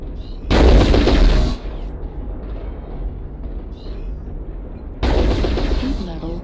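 Laser weapons firing in MechWarrior Online, two loud, sustained roaring bursts of about a second each separated by quieter mech ambience and faint mechanical hum.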